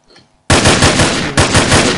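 Rapid automatic gunfire from a Roblox game bursts in loudly after a short quiet moment, a dense fast volley that continues to the end.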